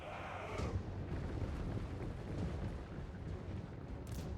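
Mortar artillery fire in the video game Total War: Warhammer, a dense rumbling barrage of distant booms and blasts blending into a continuous low roar at moderate volume.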